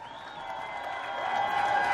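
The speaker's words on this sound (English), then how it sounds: "Let's have a nice round of applause for all the participants in today's championship" Applause from a crowd at a 2009 boys' state championship final, a steady wash of clapping that builds gradually louder over two seconds.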